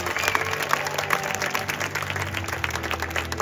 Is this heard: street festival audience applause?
yes